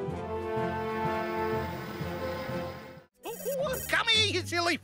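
A cartoon telephone rings in a long, steady electronic bell for about three seconds, then stops as an animated character starts talking.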